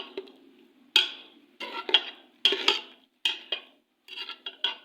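Spoon scraping and clinking against a metal pot while turmeric and red chili are stirred into hand-minced beef keema, in a series of distinct close, sharp strokes with brief pauses between them, and no voice.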